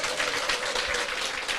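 Applause from a seminar audience, a brief dense wash of many hands clapping, steady and moderately loud from the crowd.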